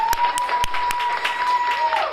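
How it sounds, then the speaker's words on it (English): Studio audience clapping in support of a woman in the studio, a brief round of scattered claps over a steady tone and low background noise. "Yes, clap it up for her."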